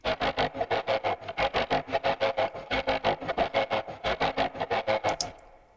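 Bowed strings chopped into rapid, even pulses by a tremolo effect, a fast throbbing pattern that stops abruptly near the end.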